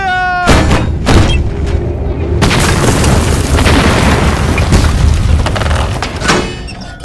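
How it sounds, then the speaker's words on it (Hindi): Cannons fire repeatedly in a Jackie Chan action film scene, loud heavy booms landing every second or so over a dense rumbling battle mix with shouted voices. "तीनों तोप चलाओ। फायर! फायर!"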